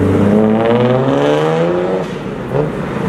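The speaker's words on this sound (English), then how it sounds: "it has an R35 engine mounted in the middle" A van with a mid-mounted Nissan R35 engine accelerates hard, its rising engine note climbing through the revs in loud, close sweeps before easing off and picking up again briefly.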